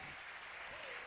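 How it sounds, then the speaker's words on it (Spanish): Church congregation applauding during a worship service, a continuous wash of many hands clapping, steady and fairly distant. "Que se oiga ese aplauso fuerte al Rey en esta hora."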